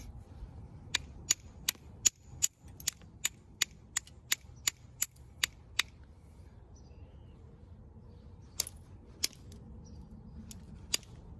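Green chert flint from middle New York being knapped to trim the edge off a blade, a run of sharp, close, high clicks in steady rhythm, then a pause and a few more scattered taps.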